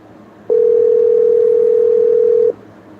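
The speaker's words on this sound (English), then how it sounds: "Let me just find her number and call her" A steady telephone dial tone holds one unbroken pitch for about two seconds at a close, even level, starting and stopping abruptly over faint room noise while a call is placed.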